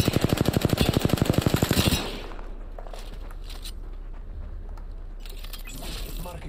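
Loud, fast automatic gunfire in Apex Legends, a steady rapid burst for about two seconds, then quieter scattered shots and background game noise.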